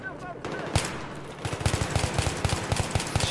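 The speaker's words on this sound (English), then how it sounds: "Shooting through the smoke." Rapid automatic gunfire rattles in quick, regular bursts during a multiplayer first-person shooter scrim, with smoke on the map. It starts after a short lull and a single loud shot, and voices can be heard alongside it.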